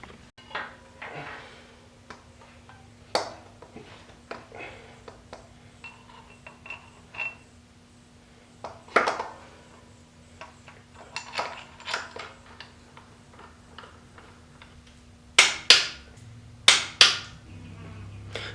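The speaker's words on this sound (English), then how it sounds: "just those two bolts mounted right up, and then I torqued it down to 37 foot-pounds" Sharp metallic clinks and ratcheting taps from two bolts being run in and torqued to hold a starter on an LS engine during a GMT400 truck swap, scattered and close, with a louder cluster of clanks near the end.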